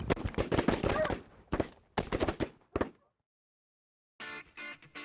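Shotguns fire at mallard greenheads during a December field hunt for waterfowl in North Dakota, with a rapid close volley of overlapping shots followed by a few more blasts, then silence and a brief tonal call.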